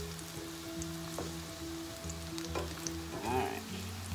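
Plantain slices fry in a pan, sizzling and crackling steadily close by over a low background hum, with a few light clinks as pieces are turned.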